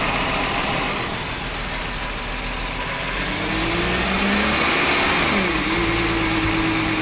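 A 2009 Volkswagen Touareg with a 3.6L engine and a lean condition idles close by, a steady mid-pitched drone whose pitch rises and falls slightly as the revs shift.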